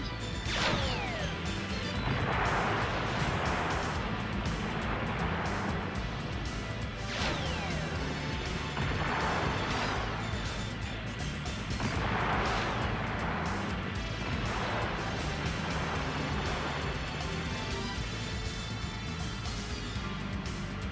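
Eggman's cannon being destroyed in a Sonic Adventure DX boss fight: a run of loud crashing, smashing impacts and bursts repeats over dense, continuous game sound and music, with no talking.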